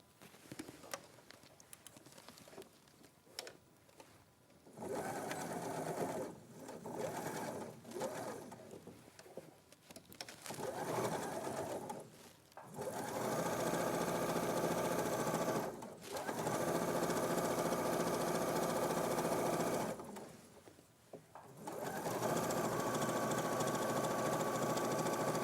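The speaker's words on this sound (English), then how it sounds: "Okay, so now I will sew all this." A sewing machine stitches fabric in several running bursts separated by short pauses, a steady mechanical whir at low volume and close by, with no talk.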